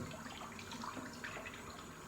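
Hot water runs steadily from a tap at a barbershop sink to rinse a razor blade during a grooming session, a faint, even splashing hiss with no talk.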